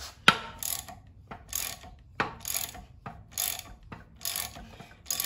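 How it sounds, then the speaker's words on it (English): A ratchet wrench with a 19 mm socket cranks the harmonic balancer bolt of a junkyard LS engine on a stand, giving repeated close, loud bursts of ratcheting clicks with brief pauses between strokes. "19 millimeter, and then just start cranking on it."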